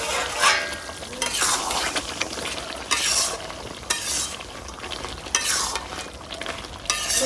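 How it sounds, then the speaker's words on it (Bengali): Country chicken curry braising in a pan is stirred in several distinct scraping passes, each burst of spoon-against-pan scraping rising over a soft, continuous sizzle, close and fairly loud, with no talking. "এখন একটু নাড়া দিয়া দেখি আমার মাংসটা কষানো যে দিছি কতটুকু হয়েছে"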